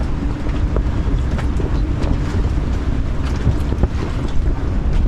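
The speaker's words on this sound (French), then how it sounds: "on a encore un bon 20 nœuds de vent" Strong wind of around 20 knots blows across a sailboat, producing loud, continuous roaring buffeting on the microphone with a rushing water-and-hull undertone, and no voices.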